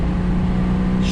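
AMC Eagle engine at wide open throttle, a loud, steady low drone with a strong humming tone, heard from inside the car.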